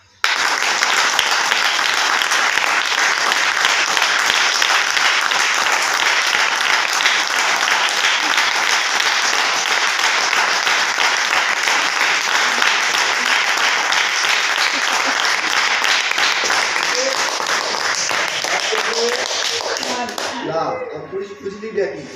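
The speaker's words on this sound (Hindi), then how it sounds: "बहुत तालियां बजाई" A seminar audience in Terkheda claps together in a loud, sustained wave of applause that holds steady for about twenty seconds before thinning out, with voices rising briefly as it fades.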